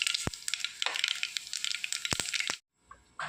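A teaspoon of mustard seeds crackles and splutters in hot oil for a breadfruit thoran, a dense, loud sizzle with sharp pops that cuts off abruptly near the end.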